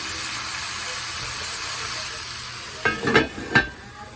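Oxtails sizzle steadily in a covered pot, a soft continuous frying hiss with a few brief clatters of the lid or utensil near the end, no talking.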